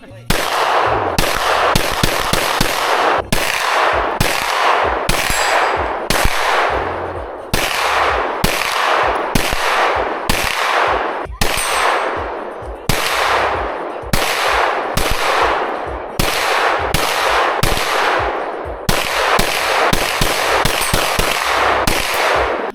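Handguns fire outdoors in rapid volleys, loud close cracks in quick bursts separated by short pauses across a long stretch.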